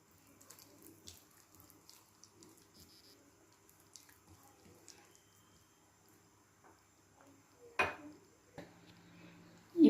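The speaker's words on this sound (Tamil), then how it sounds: "அதுக்கப்புறம் தேவையான அளவு கொஞ்சமாக தண்ணி விட்டுக்கோங்க." Water is poured into a bowl of taro seasoned with lemon, a soft quiet trickle with faint clinks of the bowl and a louder splash near the end.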